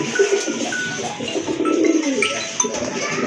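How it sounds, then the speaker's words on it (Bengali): A male Black Gold Archangel pigeon calls with low, rolling coos close by, repeated over steady background murmur. "এই যে দেখেন কবুতরটা কিন্তু খুব ভালো ডাকে"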